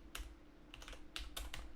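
Clacky computer keyboard typed on in short bursts of quick, crisp keystrokes with brief pauses between them, close and fairly quiet over a steady low hum, with no talking.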